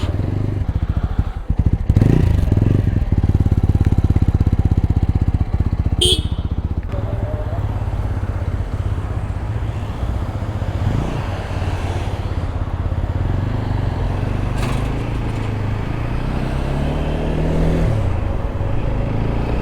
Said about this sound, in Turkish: Buyurun yeni motor.